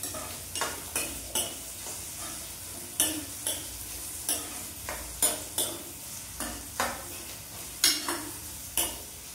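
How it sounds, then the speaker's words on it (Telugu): Onions frying in a pan for a gongura and tomato boti curry, with a soft continuous sizzle under a regular series of distinct spoon scrapes and taps as they are stirred, fairly close and without speech. "ఉల్లిపాయలు వేస్తున్నాను."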